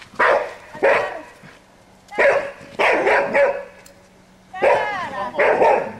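A Spanish water dog named Simo barks in several loud, close bursts of two or three barks each during an outdoor temperament test, with short pauses between them.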